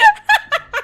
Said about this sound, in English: He's got a chicken on the table.